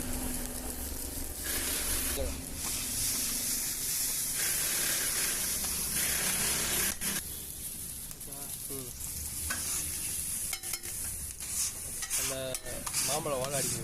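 Raw mango slices fry in a pan with a steady loud sizzle and hiss, interrupted by occasional stirring scrapes, while a person talks faintly over it.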